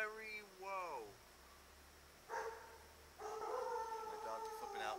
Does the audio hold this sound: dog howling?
yes